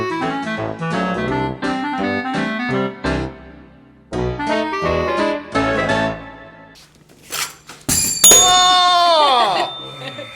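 A quiz show's ring-in bell sounds once, loud and bright with a ringing decay, after a stretch of rhythmic music.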